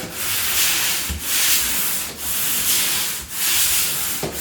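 Loud, close scratchy sanding strokes on an interior wall, rubbing back and forth in a steady rhythm of about four long passes with short pauses between.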